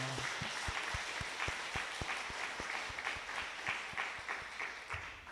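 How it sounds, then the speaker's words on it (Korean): Faint, distant clapping from a church congregation during a Sunday worship service in Busan, with sparse individual claps over a soft, steady crowd wash. "우리 하나님께 영광의 박수 올려드립니다."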